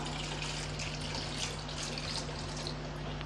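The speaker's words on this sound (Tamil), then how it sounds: "இப்போ இது மூழ்கிற அளவுக்கு தண்ணி சேர்த்துக்கலாம்" A steady stream of water pours into a pot of egg masala curry, a continuous splashing rush with a low hum underneath, no voices.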